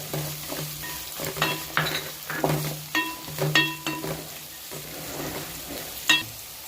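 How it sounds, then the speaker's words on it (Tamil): Chopped beans stirred into onions sautéing in a pan for spicy masala Maggi, giving a steady soft sizzle with repeated spoon scrapes and light metallic clinks at an uneven rhythm. "வெங்காயம் இந்த ஸ்டேஜுக்கு வதங்கினோன்னு இப்போ கட் பண்ணி வச்சுக்கிற பீன்ஸ் அது கூட சேர்த்துக்கலாம்."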